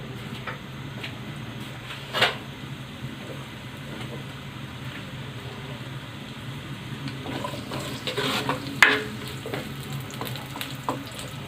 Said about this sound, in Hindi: प्याज और लहसुन डाल देते हैं, इनको फ्राई होने देते हैं।